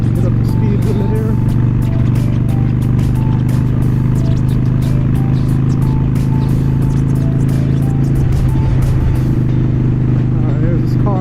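A motorcycle accelerates on a ride through a park, its engine droning loud and steady under wind noise while the rider talks over it.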